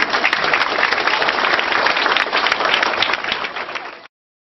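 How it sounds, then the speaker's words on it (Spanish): Audience applause at an indigenous school event in Monagas, a dense steady clapping that runs loud for about four seconds and then cuts off abruptly. "Aplausos."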